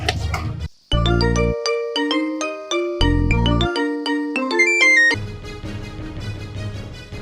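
A phone ringtone plays a bright, chiming melody of rapid tonal notes for several seconds, loud and close, with no talking.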